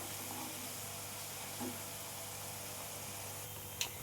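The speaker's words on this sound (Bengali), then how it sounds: "পেঁয়াজটা আমার ভাজা ভাজা হয়ে গেছে।" Onions fry in a pan for dal tadka, giving a faint, steady sizzling hiss throughout with one brief clink near the end and no talking.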